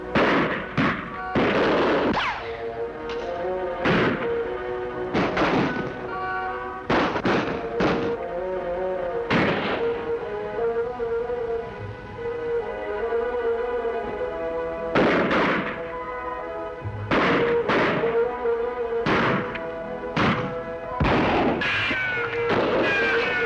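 Gunshots ring out in a western TV shootout, a rapid volley of sharp cracks early on, then scattered single shots and another cluster of loud reports later, echoing over a tonal music score.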